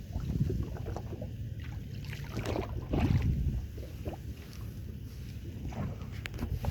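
Open ocean about 2.5 miles offshore, heard from a small boat drifting with its engine off: soft wind and water lapping against the hull, a steady low wash with occasional gentle splashes, quiet and without voices.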